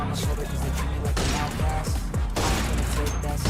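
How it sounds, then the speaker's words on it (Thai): Bursts of gunfire from a custom-room video game with a chaotic melee-weapons-only rule crackle in rapid fusillades. Several loud volleys come close together, with a voice speaking in the gaps. "นี่เริ่มจะยิงคนแล้ว"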